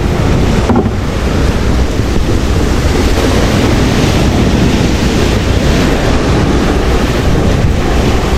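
Heavy rushing water from strong ocean waves roars continuously with wind buffeting the microphone, a dense, loud wash of surf noise and no talking.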